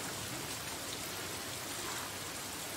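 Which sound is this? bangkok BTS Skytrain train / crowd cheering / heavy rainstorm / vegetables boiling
heavy rainstorm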